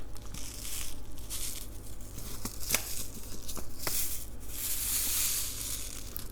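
Garden seed packets handled and shaken, giving a steady papery crinkle with soft rattling grains and a few sharp crackles, close and continuous with no voices.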